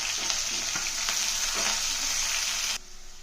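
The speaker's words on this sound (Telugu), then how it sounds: "ఉల్లిపాయ ముక్కలు పచ్చిమిరపకాయ ముక్కలు కొత్తిమీర కారలు కరివేపాకు వేసి ఉల్లిపాయలు కొంచెం లైట్ బ్రౌన్ వచ్చిన దాకా" Onion, green chilli and curry leaves fry in a pan with a steady, loud sizzle throughout and occasional stirring scrapes, cutting off abruptly near the end.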